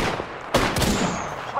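Gunfire in Apex Legends: a few sharp, loud shots in close succession around the middle, followed by a rattling burst and a faint tail, with little else underneath.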